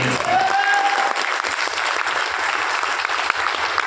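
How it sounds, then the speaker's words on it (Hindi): Loud, dense audience applause at an HCPS wellness event fills the room as a continuous wash of clapping, starting right after a brief tonal whistle-like sound and holding steady throughout. "तो सबसे पहले अपने लिए जोरदार तालियां।"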